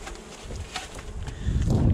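Honeybees from a colony in an opened hive during an early spring inspection hum as a steady, close buzz, with soft rustling and handling noises building up toward the end.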